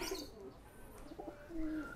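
Pigeons at a racing loft coo with low, soft, repeated calls, brief chirps mixed in, fairly close over light outdoor background noise.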